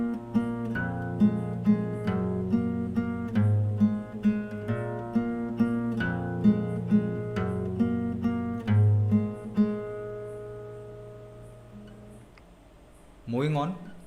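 Fingerstyle acoustic guitar plays a melody, plucked notes ringing steadily over a repeating open-string bass pattern, close and clear, fading to a short noise at the end.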